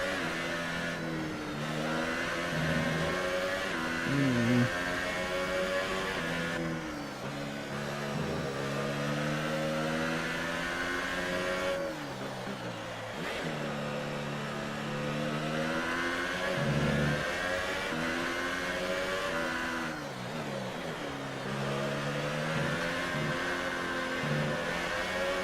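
Racing video game race car on the German circuit, its engine repeatedly revving up and easing off through gear changes and corners, a loud, unbroken mechanical drone with rising and falling pitch.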